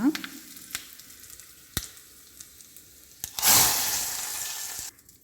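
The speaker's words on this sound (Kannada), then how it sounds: "ಇದಕ್ಕೀಗ ಸಾಸಿವೆಯ ಒಗ್ಗರಣೆಯನ್ನು ಹಾಕೋಣ" Mustard seed tempering is poured into boiling menthe kodilu, a fenugreek sambar, and sets off a sudden loud hissing sizzle that fades after about a second and a half. A few sharp utensil clicks come before it, close by, with no talk.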